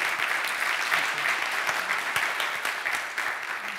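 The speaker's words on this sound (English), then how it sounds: "I want to give Dr. Cottam a big round of applause here." A round of audience applause for a speaker at the close of a talk on redesigning social systems, dense and even clapping with no voices.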